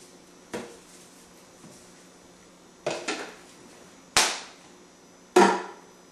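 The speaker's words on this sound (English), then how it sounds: "I have 2 eggs in a Tupperware dish that I'm just going to scramble up." Two eggs are scrambled in a Tupperware dish, heard as a few sharp clacks of a utensil against the container, spaced irregularly over quiet background.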